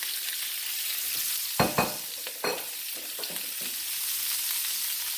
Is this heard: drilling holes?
no